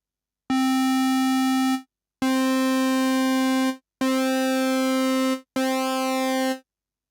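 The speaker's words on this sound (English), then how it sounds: "I can switch the pulse width modulation selector to Envelope 1." Roland Jupiter-8 synthesizer playing a buzzy sustained low note with pulse width modulated by the envelope, four separate held notes with short silent gaps, the timbre shifting within each note.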